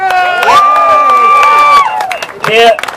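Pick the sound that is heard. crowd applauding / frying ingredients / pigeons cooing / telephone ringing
crowd applauding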